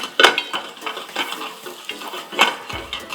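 Chopped onions sautéing with ginger and garlic in a pan for a crispy soya veg burger, heard as close, intermittent stirring scrapes and utensil clinks over a soft, steady sizzle.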